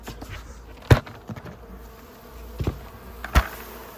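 Many honeybees shaken into a bucket buzz in a dense, continuous hum, broken by a few sharp knocks and bumps.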